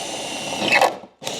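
A 7–8 mm drill bores through layered tailgate metal on a Land Rover Discovery, whirring steadily up close, then cutting out briefly and restarting.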